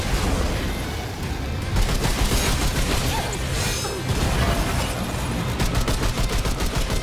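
Sustained gunfire in the video game Remnant 2, loud rapid bursts of shots and crashing impacts, with a rattling string of quick reports near the end.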